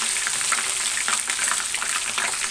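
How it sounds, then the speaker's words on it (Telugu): Ginger paste frying in hot oil for a chicken pickle, a steady bubbling sizzle with faint crackles and no break, fairly close and alone without any voices. "ఇది బాగా ఏగనివ్వాలండి నూనెలో ఎందుకంటే అల్లం పేస్ట్ అనేది పచ్చి వాసన వస్తుంది"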